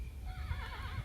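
A horse in the video game Kingdom New Lands gives a short, close neigh with a wavering whinny and soft hoof clops underneath.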